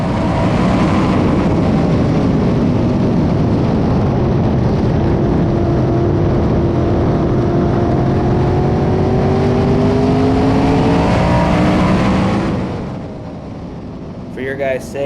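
In-car engine of a race car at Indianapolis Raceway Park during an A main, a loud sustained roar with rising and falling pitch through shifts, cutting off abruptly near the end.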